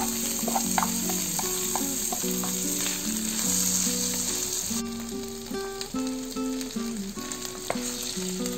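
Carrots, beans, peas and sweet corn frying in a pan for vegetable pulao, with a steady close sizzle and a few stirring clinks over soft background music.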